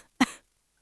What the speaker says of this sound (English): what about a cough when you go,